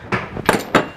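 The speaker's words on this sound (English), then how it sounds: "I keep on dropping my tools" Hand tools drop during a Schwinn Stingray banana-seat bike repair, making three quick, close, clattering impacts within about a second, with no talking.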